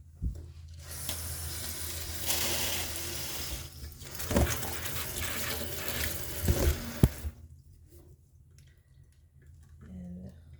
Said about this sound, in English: I'm gonna use some vinegar. Any vinegar you have is fine. I'm just gonna pour a little like that.